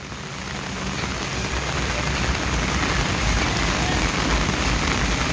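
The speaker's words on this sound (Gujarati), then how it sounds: "જેટલો વરસાદ હમણાં તો એટલો વરસાદ પડ્યો છે ને," Heavy rain pours down steadily in a dense, continuous hiss, close and loud throughout with no break, like a full downpour drumming on surfaces.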